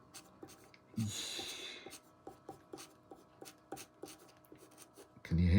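Scratchy nib of a Kaweco Perkeo fountain pen dragging across paper in short repeated strokes, close and fairly quiet, with a louder rustle near the end.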